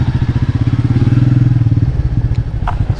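A 2020 Royal Enfield Meteor 350 BS6 motorcycle engine runs close by with a steady, rapid thumping pulse that stays even and loud throughout.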